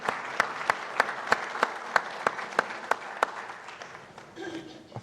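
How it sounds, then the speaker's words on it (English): A live audience at a project management podcast recording gives a short round of applause, with sparse, evenly spaced claps that fade out toward the end. "Well, there's a round of applause there."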